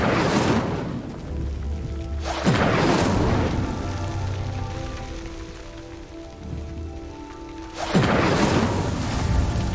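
The Incendio fire spell in Hogwarts Legacy bursts out in three loud, roaring whooshes, with softer crackling and rumbling between the blasts.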